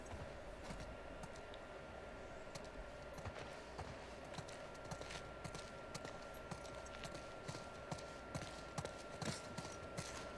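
Horse hooves clip-clop steadily on the ground in The Last of Us Part II, a faint, continuous patter under ambient game background noise, with no speech.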